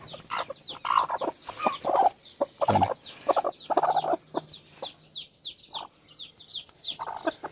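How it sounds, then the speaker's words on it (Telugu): Medak breed hens clucking in short, repeated bursts, close and fairly loud, with a few sharper squawks mixed in. "ఇందులో కూడా 2 కోళ్ళు ఉన్నాయి మనకు"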